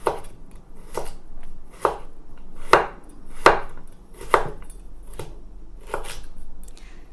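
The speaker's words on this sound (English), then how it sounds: "I'm trying to cut them as thinly as I can." A knife chops carrots into thin matchsticks for napa cabbage kimchi, with about nine crisp, close board strikes at an uneven pace and no voices.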